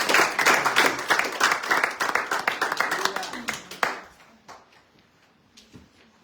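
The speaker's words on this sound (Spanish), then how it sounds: "Den un fuerte aplauso" Congregation applause during a Good Friday Seven Last Words church service, a burst of strong, rapid clapping for about four seconds that then dies away into a quiet room.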